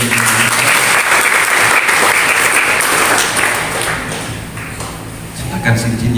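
Guests at a Christian wedding blessing clap for the bride and groom, a steady wash of indoor applause with a voice speaking over it, thinning toward the end before a short swell.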